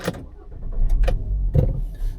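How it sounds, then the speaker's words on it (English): A manual-transmission car's engine starts in neutral with the brake held, a short starter crank catching into a low, steady idle rumble, close and fairly loud. "we're going to start the car with our foot on the brake"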